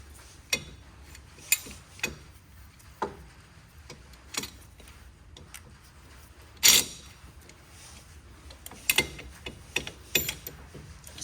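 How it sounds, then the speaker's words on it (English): A C-clamp pushing back the front brake caliper piston on a 2005 Chevrolet Cobalt gives sparse, sharp metallic clicks and ratcheting ticks at irregular intervals, close and moderately quiet against a low hum. "I will push the calipers back now."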